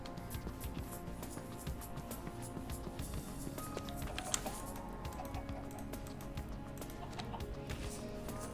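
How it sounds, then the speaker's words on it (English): Chickens cluck inside a modded Minecraft world, the fowl sounds sitting within a dense, steady wash of game noise with no talking. "I'm mainly just doing this for the chickens. Let me breed these."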